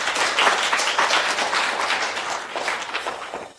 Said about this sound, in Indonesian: Mari kita sambut dengan tepuk tangan meriah.